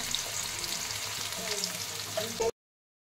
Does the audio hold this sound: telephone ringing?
no